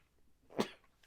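A single short, faint sneeze bursts out once amid quiet room tone during a casual podcast conversation.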